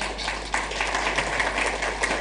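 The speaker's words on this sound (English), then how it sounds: "Another round of applause, please. Louder." Sustained applause from an audience at a panel discussion on the intra-African food market, steady dense clapping throughout with a constant low hum beneath.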